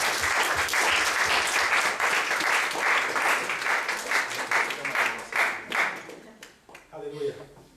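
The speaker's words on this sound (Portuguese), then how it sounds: "Vamos aplaudir o Senhor em homenagem a essas mães" A church congregation gives sustained applause in honor of mothers at a Portuguese-language service, with dense clapping that fades into scattered claps while a voice begins speaking near the end.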